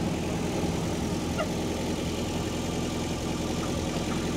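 A jeep's engine idling before shifting into low gear, a steady continuous mid-to-low rumble at an even level throughout, close by, with no talking.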